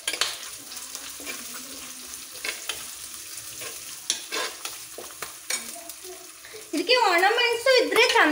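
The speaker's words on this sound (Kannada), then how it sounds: "ಅಲ್ಲಿಂದ ಈ ಈರುಳ್ಳಿನ ಹಾಕೊಳ್ತಿದ್ದೀನಿ" Green chilies and onions fry in a pan for curd rasam, a close, steady sizzle with scraping stirs throughout, and a voice speaks near the end.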